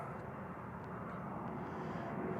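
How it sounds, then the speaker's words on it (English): A plane approaching Edmonton International Airport on a cold, grey day, heard as a steady, fairly quiet engine drone held for the whole stretch with no talk. "Oh, and you got a plane coming in."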